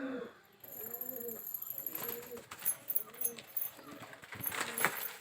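A homing pigeon coos nearby in a series of soft, low, rolling calls repeated several times, with light clinking and rustling around it and faint traffic in the distance.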